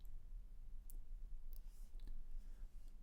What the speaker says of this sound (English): I'm going to click approve and submit that review.